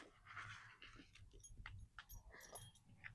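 A dog in a backyard garden whimpers and pants while digging in freshly planted soil; short whines and breathy panting come from close by, with scuffing in the dirt and no talking.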